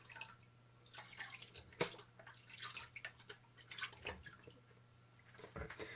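Water being sloshed and swished through a gold pan while washing out a paydirt sample, with quiet drips and splashes in scattered bursts close by.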